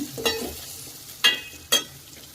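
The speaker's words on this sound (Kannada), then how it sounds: "ಇವಾಗ ಸ್ವಲ್ಪ ಕರಿಬೇವು, ಒಂದು ಸ್ವಲ್ಪ ಈರುಳ್ಳಿನ ಈ ಥರ ಉದ್ದುದ್ದ ಕಟ್ ಮಾಡ್ಕೊಂಡು ಹಾಕ್ಕೋಬೇಕು" Curry leaves and long-sliced onion fry in a pan for noodles made from leftover chapatis, giving a soft background sizzle broken by three sharp scraping strokes of a spatula, close and without talk.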